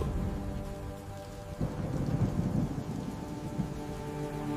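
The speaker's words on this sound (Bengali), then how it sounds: "শুরু হলো মুষলধারে বৃষ্টি" Heavy downpour of rain with low rumbling thunder in an animated story, a continuous dense patter that swells louder midway, with no voices.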